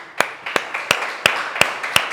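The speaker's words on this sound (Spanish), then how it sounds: "darle un fuerte aplauso a nuestro Rey" Clapping rings out during a church service: six sharp, evenly spaced claps in a slow, steady rhythm, close and distinct against a quiet background.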